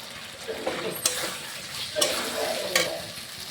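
Fried potatoes go into a pan of spice paste for a vegetarian jackfruit and potato curry, with a steady soft sizzle and a few sharp spatula scrapes and knocks as the mixture is stirred, close and fairly loud.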